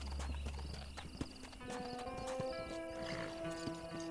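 A horse in the Western video game Red Dead Redemption clip-clops along with rhythmic hoofbeats and a whinny, set against game music and ambience.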